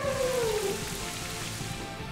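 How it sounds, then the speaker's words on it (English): Steady video-game rain in Pokemon Scarlet/Violet hisses across the whole stretch, a dense even patter with a faint low tone fading out near the start. "It's starting to rain."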